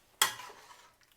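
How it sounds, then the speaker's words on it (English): A single sharp clatter as cooked meat, homemade cat food, is spooned from a pan into a blender, followed by a fading scrape and a faint tap, close and alone. "I turn the heat off, and then I spoon some of it"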